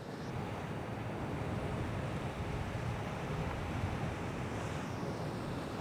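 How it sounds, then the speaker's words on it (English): Steady wind roaring outdoors, a constant broadband rush buffeting the microphone with no pauses and no voices. "It's getting pretty windy"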